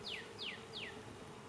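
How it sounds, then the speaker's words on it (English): A low, even hum of honeybees in a weak hive runs throughout, faint and steady, while three quick descending high chirps sound over it at regular intervals. "A lot of bees over there, a lot of bees over here."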